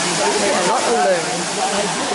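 Florence Falls in Litchfield National Park rushes as a broad steady roar under continuous chatter from a crowd of hundreds of people.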